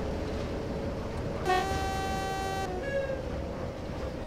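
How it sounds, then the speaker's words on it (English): A BR Class 07 shunter in Train Simulator 2015 gives a long horn blast over a low rumbling engine as it departs, followed by a shorter second toot, the machinery droning steadily underneath. "as the train goes off into the 10 o'clock in the morning sunset"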